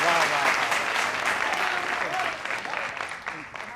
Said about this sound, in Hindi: देखा कितनी अच्छी तालियां बजी है।